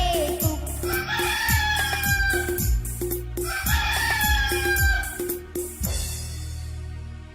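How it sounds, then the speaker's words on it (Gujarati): A rooster crows several times in a row, loud and close, its calls repeating rhythmically over a musical backing. "કુકડાએ જગાડી મને, બોલ્યો કુકડે કુક"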